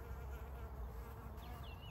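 A steady, dense buzzing of a honeybee hive, continuous and even throughout, with a faint high whine over the drone.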